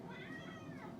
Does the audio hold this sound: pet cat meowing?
yes